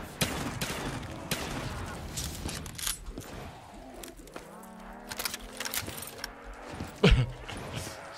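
Rapid bursts of gunfire from the ASMR gun in a parkour challenge map video game, sharp repeated shots clustered early and then scattered, with a louder crack near the end amid game noise.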